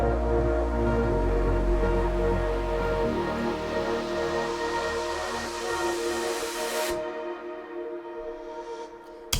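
An electronic music build-up rises before the drop, layered synth tones and a heavy low end swelling together, the bass thinning out partway and a bright rising sweep climbing until the track cuts abruptly to near silence.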